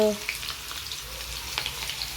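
Onion with ginger-garlic paste frying in a pan, a soft, steady sizzle with light crackles and a few stirring clicks, heard alone at low level.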